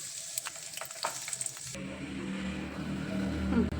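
Peanuts fry in hot oil for puliyogare with a close, crackly sizzle. Partway through, the sound drops to a softer, steadier bubbling hiss over a low hum.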